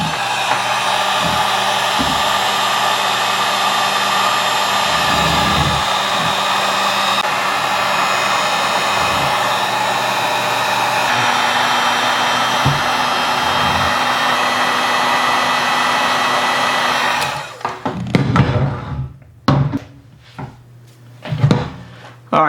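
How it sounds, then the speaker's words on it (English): A heat gun blows steadily and loudly for about seventeen seconds on the hairpin of a Head tennis racquet to melt the tape under the pallets, then cuts off, leaving short knocks and handling sounds. "aim the heat gun right down the hairpin in order to get some of a gap between the hairpin and the pallets and start melting some of that tape"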